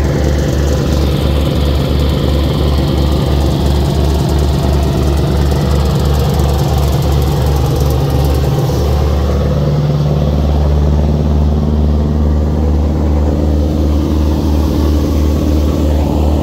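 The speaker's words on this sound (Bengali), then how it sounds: "তো সবচেয়ে বড় বিষয় হলো দেখেন প্রপেলার থ্রাস্ট আর গতি কি পরিমাণ দিয়েছে।" The Moyur 7 passenger launch on the Dhaka to Chandpur river route: a loud, steady engine drone with a pulsing low throb from the propeller that shifts into a smoother, deeper hum partway through, continuous and close, with no voices.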